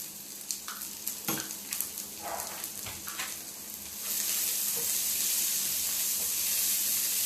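Garlic caramelizes in a hot pan with light clinks and scrapes of a utensil early on, then a steady fuller sizzle takes over and holds, close but fairly soft.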